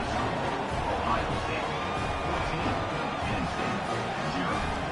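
Steady crowd cheering and roaring fills a stadium in an NBA 2K26-style football video game, continuous and dense, sitting under faint commentary.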